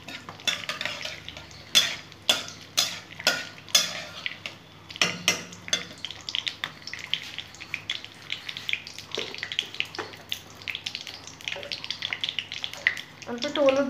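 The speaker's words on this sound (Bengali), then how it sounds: "ফোড়নটা একটু ভেজে নেব যাতে একটু সুগন্ধ বেরোয়।" Tempering spices, cloves and cardamom, frying in oil for a fish dish, heard as a close sizzle with repeated sharp stirring scrapes and clinks of a spoon against the pan, and a voice talking at times.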